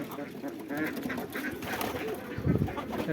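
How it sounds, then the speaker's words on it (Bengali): Racing pigeons coo and murmur close by in an enclosed loft, a soft continuous chorus of bird calls. "এই হলো আমার রেসার কবুতর দেখেন এই ঘরটায় বেশিরভাগই হলো রেসার কবুতর"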